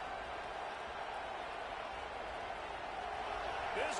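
Steady roar of a stadium crowd in an NCAA football game in Madden, a dense continuous wash of noise at even loudness throughout, with no clear voices on top.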